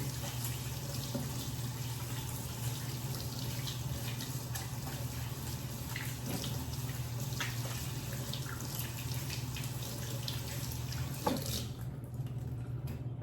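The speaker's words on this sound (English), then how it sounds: "And then I am going to wash my hands." Hands washed under a running kitchen tap, a steady continuous water flow with light splashing, fairly quiet and close, no voices.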